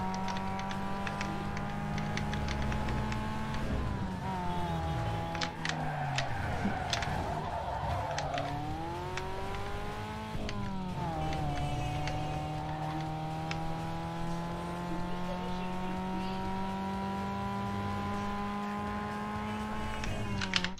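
Toyota AE86 engine in Need for Speed Underground 2 holds a steady, loud drone that rises and falls through gear changes, with a brief burst of tire skid noise midway and game music low underneath.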